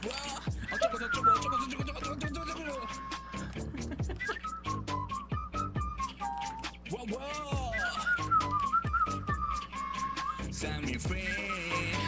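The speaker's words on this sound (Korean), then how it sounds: "아, 휘파람, 휘파람도 잘 부네." A person whistles a melody in a karaoke-style Overwatch song, wavering tune lines weaving over a rhythmic backing beat with sharp percussive clicks, while voices talk over it now and then.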